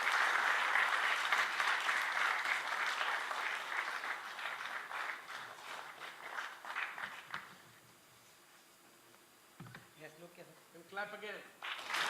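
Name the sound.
audience applause at book launch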